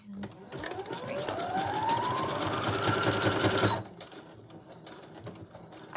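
Sewing machine stitching a scrub cap, a fast, rapid mechanical chatter that speeds up and runs for several seconds before stopping abruptly, followed by quieter handling sounds.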